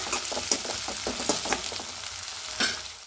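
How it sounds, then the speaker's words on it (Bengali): Onion, tomato and chopped mustard lightly frying in a pan, a soft sizzle with scattered clinks and scrapes of stirring at an uneven rhythm, fairly quiet and with no voices. "এবার একটু হালকা করে ভেজে নেব।"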